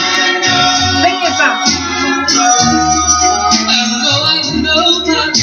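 A doo-wop oldie plays loud and steady, with a full band backing, a strong beat and layered vocal harmonies throughout.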